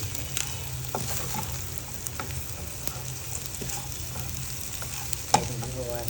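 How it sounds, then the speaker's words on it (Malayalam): Prawns sizzle steadily in a pan of hot oil for pickle, with curry leaves, under a constant frying hiss and occasional light clinks of the stirring spoon. "അതിലേക്ക് എടുത്ത് വെച്ചിരിക്കുന്ന ചെമ്മീൻ ചേർക്കുക. നന്നായിട്ട് ഇളക്കി യോജിപ്പിക്കുക."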